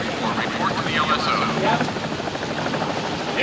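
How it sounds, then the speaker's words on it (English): Helicopters on the flight deck of the aircraft carrier USS Midway give off a steady, loud rotor and engine roar. Radio-style voices talk over the constant mechanical drone. "Air Division's been pushing choppers around on the flight deck for the past 24 hours"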